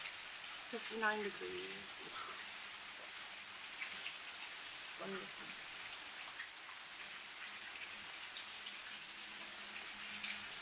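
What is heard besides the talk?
rain falling during a thunderstorm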